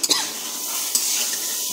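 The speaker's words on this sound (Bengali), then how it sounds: "আমি আলুটাকে ভালো করে কষিয়ে নেব।" Chunks of potato are turned in a hot pan of cooked-down spice paste for a fish-and-potato chorchori, a brief scrape of the spoon over a soft, steady sizzle.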